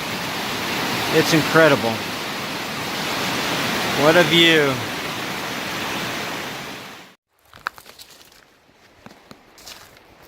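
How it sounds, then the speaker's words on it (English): Steady rushing of spring-fed mountain water cascading down a slope on the Appalachian Trail, a loud broadband roar that cuts off abruptly partway, with people briefly talking over it. "They combine together to give this much water coming down this mountain."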